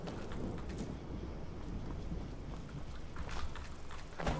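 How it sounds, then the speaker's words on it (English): Thunder from dry lightning rolls through the video game Skyrim, a low, rumbling wash with scattered rain-like crackle, steady and fairly loud with swells near the end, no voices. "Dry lightning, that is cool."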